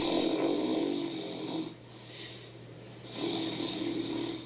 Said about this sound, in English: There's no denying snoring is annoying.